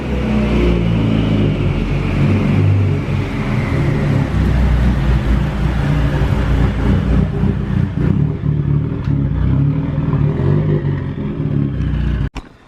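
Mitsubishi Evo being test driven, a loud, sustained engine roar with shifting revs and rattling clatter from inside the car, ending with a sudden drop-off and a sharp knock.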